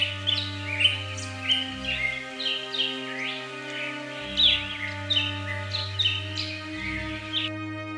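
A small bird caught in a hunter's net chirps in quick, bright bursts over a steady low musical drone, in an animated Hindi magical bedtime story.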